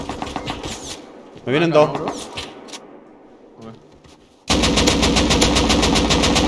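Gunfire in Rust, rapid automatic bursts that start softly, pause behind a spoken voice, then erupt loud and sustained in a fast steady rhythm.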